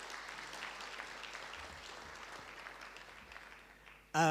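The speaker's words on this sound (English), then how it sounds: "We can give them a round of applause as he makes his way to the front." Faint, thin applause from a conference audience at an engineering ethics forum as a panelist walks to the front, fading gradually before a brief louder sound cuts in at the very end.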